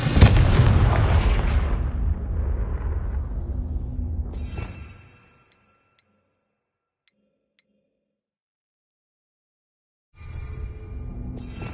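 A Confringo fire-blast spell explodes in Hogwarts Legacy with a loud, booming burst that rumbles and decays over several seconds, then goes quiet before another blast erupts near the end.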